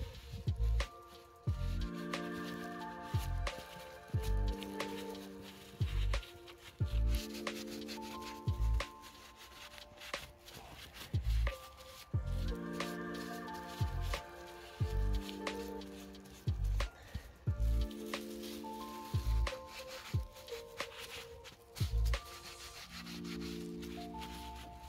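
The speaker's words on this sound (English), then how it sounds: "suck about half of the diesel out using my extractor" A hand-pumped fluid extractor draws diesel out of the fuel filter housing on a 2007 Vauxhall Combo 1.3 CDTi van, giving rhythmic repeated squeaky pumping strokes in steady bursts, close and without talk.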